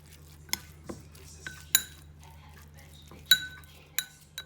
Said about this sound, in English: add the tuna into a bowl, and then I'm going to add a tablespoon of taco mayonnaise and mix it together